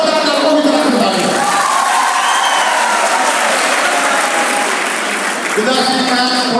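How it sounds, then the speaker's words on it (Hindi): Sustained applause from a crowd at a school Independence Day prize distribution, dense clapping with some cheering voices mixed in, continuing steadily throughout. "जोरदार लड़कों की तरफ से तालियां।"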